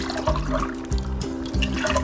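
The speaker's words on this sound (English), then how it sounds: "I'm going to add half a can of water" Water poured into a half-emptied can of crushed tomatoes and swirled to rinse it out for chili, a steady liquid sloshing with rhythmic pulses as the can is tipped back and forth, close and fairly quiet.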